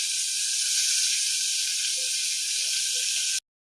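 Tomatoes and coriander hiss and sizzle steadily in a hot pan with onions, a dense continuous frying noise that holds level for a few seconds, then cuts off abruptly.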